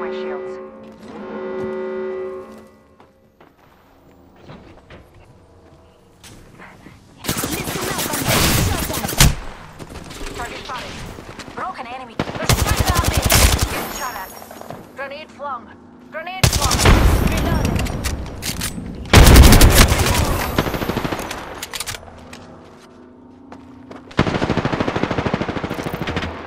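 Sustained automatic weapon fire from the battle royale shooter Apex Legends in Arena mode, loud and close, comes in five separate bursts of a second or two each, with quieter gaps between them.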